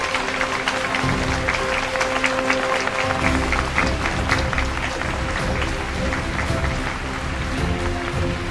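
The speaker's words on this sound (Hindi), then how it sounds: "तो तालियों का बड़ा दौर हो जाए।" Audience applause in a hall for a psychologist's scientific achievement, sustained crowd clapping with a low steady hum beneath it, moderately loud and unbroken.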